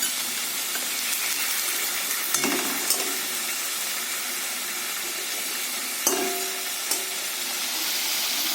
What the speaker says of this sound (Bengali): কুমড়োগুলো এক পিঠ ভাজা গেছে,